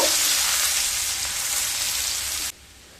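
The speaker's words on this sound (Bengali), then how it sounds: "আদা আর রসুনকে হালকা ভেজে নেব" Garlic and ginger sizzle steadily in hot oil, a bright crackling hiss that cuts off abruptly near the end.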